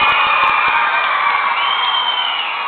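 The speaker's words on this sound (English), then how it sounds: "Give yourselves a big round of applause." Students cheer and clap in a school classroom setting, a loud, continuous blend of shouting voices and applause heard through a bright, band-limited recording with a few sharp claps standing out early.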